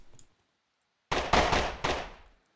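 Gunfire in the survival video game SCUM: a loud, close burst of three or four rapid shots after a short silence, with a brief fading tail.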